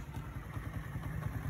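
A motorcycle engine idles just after starting, a steady close low-pitched chug with a rapid, slightly uneven pulse and light mechanical clatter.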